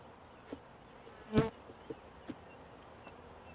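Honey bees buzz faintly around a hive while a package of bees is installed onto frames with beeswax comb and honey, a low steady hum with one louder close pass of a bee and a few soft clicks.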